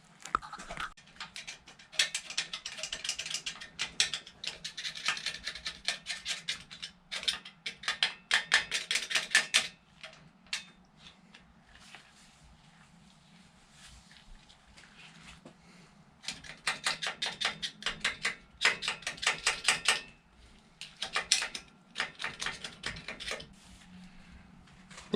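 Rapid, close metallic tapping and scraping as carbon is knocked out of an EGR valve from an Alfa Romeo or Fiat, coming in busy clattering bursts with quieter gaps between them.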